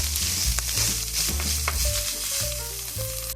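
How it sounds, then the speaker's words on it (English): Salt and pepper are stirred into a sizzling baked beans mixture in a hot pan, a steady close frying hiss with light scraping throughout and no talking. "you just want to mix it until it's well combined"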